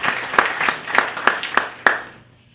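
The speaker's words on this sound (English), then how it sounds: "So let's give Mike a round of applause" A small audience gives a short, sparse round of applause, with a few distinct claps standing out, before it quickly fades to quiet.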